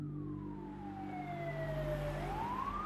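An ambulance siren wails at a distance, a single long tone gliding slowly downward then turning upward again, faint over a low steady rumble.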